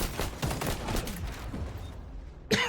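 In a Call of Duty match, gunfire comes in quick bursts of rapid shots, close and sharp. A final louder crack lands near the end.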